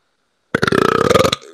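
A single loud, close burp rattles for nearly a second, a rapid pulsing croak that starts abruptly after silence and trails off.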